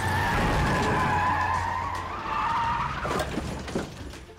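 In a TV drama scene, a car's tires squeal in a long, loud skid with engine noise, ending in a crashing impact with a few sharp bangs and a quick fade.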